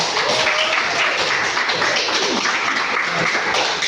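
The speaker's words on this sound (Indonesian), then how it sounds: "Tepuk tangan buat kita semua." A classroom full of students claps together in a dense, continuous burst of applause that stays loud and close for a few seconds.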